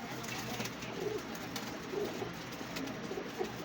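Pigeons coo softly and repeatedly in a loft where a keeper is handling a flock of around thirty birds, the low murmuring calls steady and fairly close against a busy background hum.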